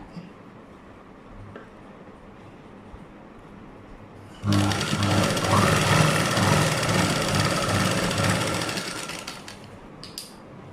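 Sewing machine stitching a 36-inch blouse, starting abruptly after a quiet lull and running steadily at high speed for about five seconds with a dense mechanical whir, then easing off and stopping.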